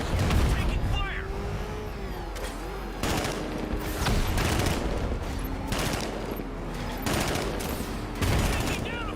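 Bursts of automatic gunfire in Batman: Arkham Knight, rapid rattling volleys recurring every second or two amid engine rumble and a radio-style voice.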